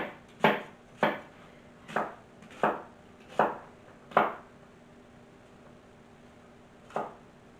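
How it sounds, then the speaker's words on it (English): A knife rough-chops an onion on a board in six or seven crisp, evenly spaced thuds, then a pause and one final cut, close and fairly quiet. "putting this rough chop on my onion"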